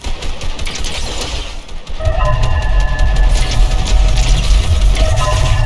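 Rapid automatic gunfire in Fortnite, dense and loud throughout, growing heavier after the first two seconds into a sustained barrage of shots.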